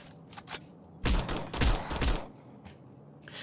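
Gunfire in the video game Girls Guns and Zombies, a few faint shots followed by a loud burst of rapid firing lasting about a second and a half, then a few scattered quieter shots.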